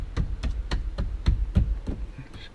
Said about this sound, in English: Start pushing in this door seal here.